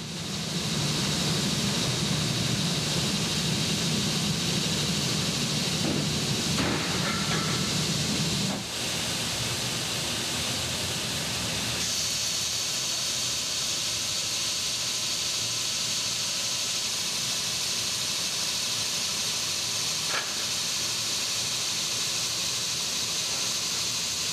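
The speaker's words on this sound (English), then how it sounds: "Sanding removes the dings and dents the tank picks up in manufacturing" An aluminum scuba tank is sanded to remove dings and dents, giving a loud, unbroken abrasive hiss that shifts in tone partway through and keeps going without pause.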